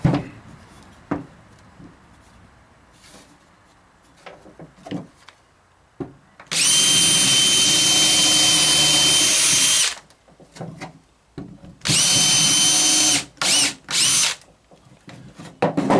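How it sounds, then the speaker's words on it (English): A loud power drill pre-drills wood for screws on a porch swing, whirring steadily for several seconds, stopping, then running in shorter bursts, with quiet clicks and handling noises in the gaps. "Kind of pre-drill it. Gets 2 screws, one here and then one on the other side."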